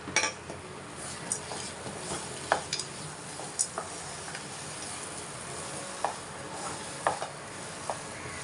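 Moong dal halwa with ghee and dry fruits is stirred in a pan, soft continuous scraping and gentle sizzle with scattered light clicks of a spoon against metal, fairly quiet and close.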